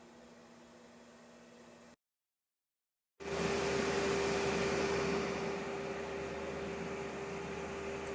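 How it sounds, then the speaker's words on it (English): Antminer cryptocurrency mining machines running in a house, a steady roaring fan whoosh with a tonal whine that cuts out briefly, then returns loud and constant. "As you know, ant miners are extremely loud, as shown in this video."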